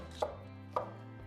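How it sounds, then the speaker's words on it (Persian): Knife chopping onions on a board, two crisp close chops about half a second apart with a softer third, alone under a faint low hum. "پیازها همه رو خرد کردیم."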